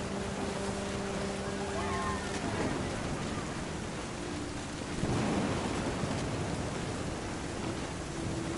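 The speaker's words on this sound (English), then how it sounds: "The thunder sounded much too close and full of angry power." Thunder rumbles through a storm in What Remains of Edith Finch, a low broad roll swelling midway amid steady rain-like noise, with faint tonal game sounds early on.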